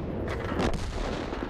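Naval video game gunfire, with heavy ship cannon shots booming in a dense, continuous rumble of overlapping blasts throughout a short burst.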